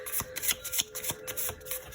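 Tarot cards being shuffled by hand, a close, quiet series of quick papery snaps and flutters repeating in an uneven rhythm, heard alone.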